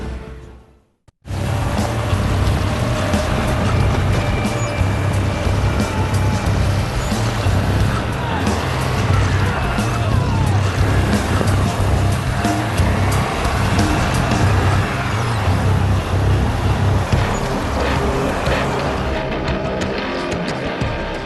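Expedition trucks drive across remote terrain toward a mountain range, giving a loud, steady engine rumble and road noise that starts abruptly after a second of silence and continues unbroken to the end.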